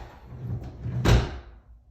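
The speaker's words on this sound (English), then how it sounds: "when I open and close this drawer that there's movement" A drawer in a house under a punch-list walkthrough slides and bumps shut with one firm knock, preceded by a softer rolling movement, close and alone.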